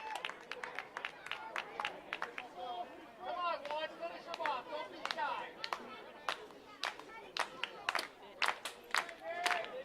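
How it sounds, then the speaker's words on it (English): Baseball fans at a Barrie Baycats home game against the Hamilton Cardinals clap in a rhythmic pattern of sharp, evenly spaced claps that build in pace, heard under a play-by-play announcer's voice. "Fans with a rhythmic applause, encouraging the Baycat ace hurler"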